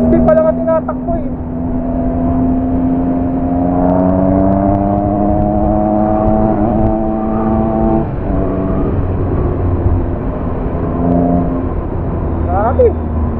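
A 2022 Yamaha MT-09 motorcycle, heard from the saddle while riding, roars with a loud, droning engine whose pitch climbs and falls through the gears. Wind rushes past and the rider talks over it.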